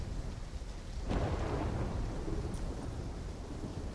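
A thunderstorm in the video game Call of Duty: Black Ops 3 rolls in as steady rain hisses, with a deep thunder rumble swelling partway through and lingering, no voices heard.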